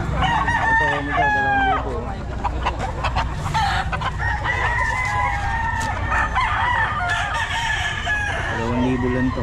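Chickens and a rooster at a Filipino fowl sale crow and cluck loudly and close by, several overlapping calls repeating across the stretch, with some background murmur.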